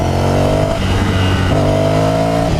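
A 2015 Ducati Scrambler motorcycle engine revving up close, a loud throaty drone that rises, dips briefly and climbs again in quick throttle blips, with no voices over it.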